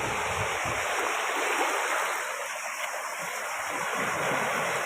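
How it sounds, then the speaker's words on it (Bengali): A continuous wash of big sea waves breaking on a beach, a dense steady roar of surf and wind at close range, with no voices. "বিশাল বড় বড় ঢেউ সমুদ্রে"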